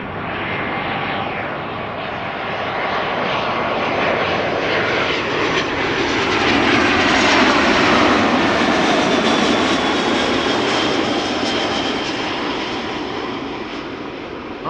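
Airliner engines of an Electra Airways jet, operated by Novel Air, roar steadily at Schiphol Airport, swelling to a peak midway and easing off slightly as the aircraft passes close by, with no talk.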